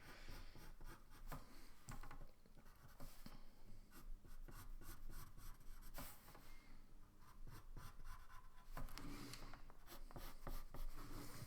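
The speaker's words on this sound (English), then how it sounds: "instead of actually drawing kind of one straight line, I'm actually using kind of a brush stroke." Pencil sketches freehand on paper in short brush-like strokes, making quick close scratchy scrapes in bursts with brief pauses between them, quiet and unaccompanied by speech.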